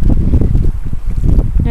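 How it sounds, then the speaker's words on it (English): Loud, blustery wind at a lake buffets the microphone in low rumbling gusts, close and constant with no other sounds. "It's windy."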